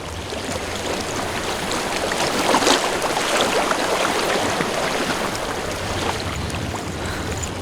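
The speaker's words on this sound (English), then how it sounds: "I hear water." Flowing stream water in the game Hellblade: Senua's Sacrifice, a steady rushing and splashing wash with a brief swell near the middle, close and continuous, with no speech.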